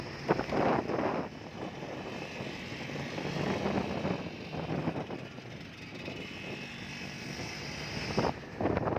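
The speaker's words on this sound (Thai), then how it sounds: "เสียงเครื่องนิ่งดีนะครับผม" An LS 125 motorcycle engine idles at close range with an even, continuous drone that holds its pitch, joined by gusts of wind buffeting the microphone.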